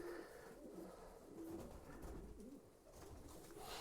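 Racing pigeons coo softly and repeatedly nearby, low throaty calls over a steady background hum.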